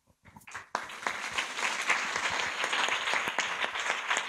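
After a few scattered early claps, a conference audience breaks into dense, sustained applause that holds steady and fairly loud to the end.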